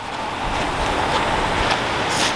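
Skogafoss waterfall in Iceland roars as a steady, broadband rush of falling water with wind buffeting the microphone, continuous and loud throughout without any break.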